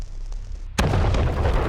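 A cart full of bombs exploding in a video game: after a moment of quiet ambience, a sudden loud blast erupts and rolls on as a sustained, rumbling roar.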